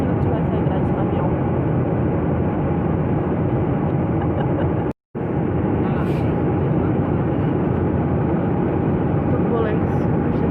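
Steady broadband roar of an airplane cabin in flight during turbulence, loud and continuous with a brief dropout midway, and a voice speaking over the engine rumble.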